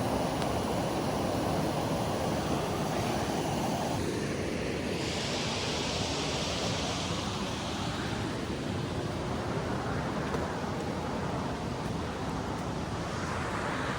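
Steady, loud rushing of creek water flowing near a waterfall along a forest hiking trail in Marinette County, a dense broadband roar with wind-like hiss that continues unbroken, with no voices.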